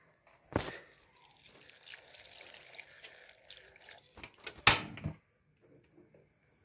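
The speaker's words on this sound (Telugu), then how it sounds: "కొంచెం నీళ్ళు పోసుకుందాం లైట్గా." A small amount of water is poured into a bowl holding tomato pieces, with a brief splash near the start and a louder, sharper pour later, close and otherwise quiet.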